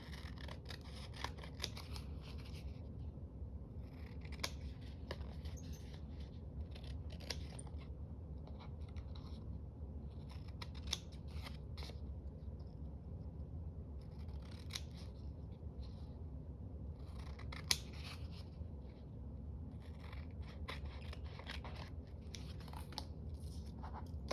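Scissors trim paper for a junk journal tag, a long run of quiet crisp snips and crunchy cuts in an uneven rhythm, close and faint over low background hum.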